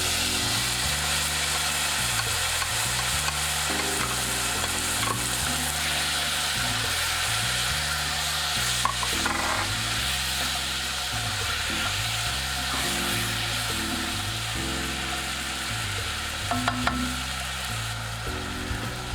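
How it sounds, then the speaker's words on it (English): Onion sizzles and hisses continuously in a hot frying pan, steady and loud throughout, with a faint rhythmic low hum underneath. "Now while that's sizzling down"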